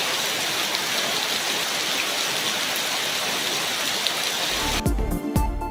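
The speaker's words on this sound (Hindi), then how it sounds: "इस्लामाबाद में रात गए शदीद बारिश से गर्मी का जोर टूट गया" Heavy night rain pours down in Islamabad, a dense, steady roar of water that fills the whole stretch before cutting abruptly to a different, quieter recording at the end.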